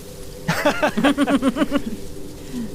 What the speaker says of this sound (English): you definitely become aware of birdsong